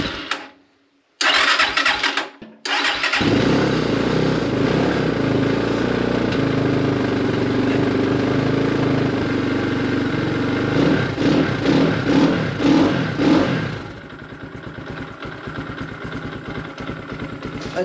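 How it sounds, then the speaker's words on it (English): An X Pro Templar 250 street/trail motorcycle engine cranks over a couple of times, catches, and settles into a loud, steady idle, which dips and becomes a lower, pulsing putter near the end. "Idle sounds really low."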